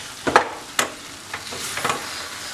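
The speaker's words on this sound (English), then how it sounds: "So I've been adding stock, letting it cook, letting it absorb, then adding stock again." Risotto rice simmers in stock in a pan, a soft bubbling sizzle broken by several quick scraping stirs close by.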